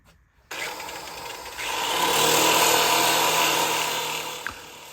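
Power sander grinding a knife blade against sandpaper: a motor spins up after a click, then a steady loud abrasive whine that swells in intensity while the metal is pressed, continuing alone without talk.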